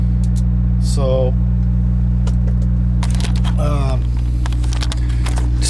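A truck engine idles in a steady low drone with a constant hum throughout, while a voice speaks briefly twice over it and a few clicks sound nearby.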